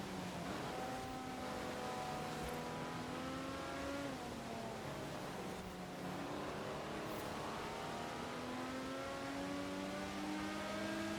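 A vintage Ferrari in a racing video game revs hard and slides. The engine whines upward through repeated rising gear sweeps, steady and prominent, with no talk.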